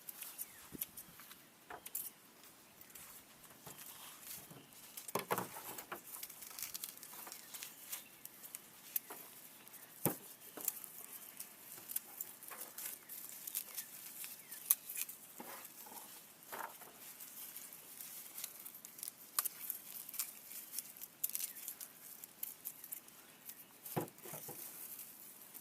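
Scissors trimming the roots and stalks off harvested garlic bulbs on a garlic farm, giving soft, irregular snipping clicks that are close by and quiet, with no voices.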